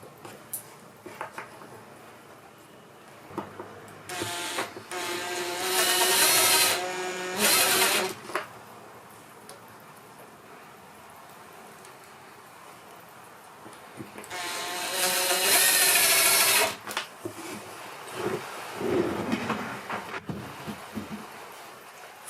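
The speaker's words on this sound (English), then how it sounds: "I could not recommend a compact sort of right angle impact driver anymore" A compact right angle impact driver whirs and hammers in two long bursts, working on camper van garage flooring and roof rack parts, loud and close, with quieter handling noise and pauses between the runs.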